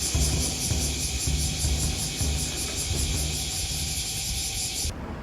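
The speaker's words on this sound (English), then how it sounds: "Just morning traffic in a very quiet and calm Kobe City." Morning road traffic in a quiet, calm Kobe city, heard as a steady low rumble and hiss of passing vehicles with a faint repeating pulse, continuous and fairly close, with no talking.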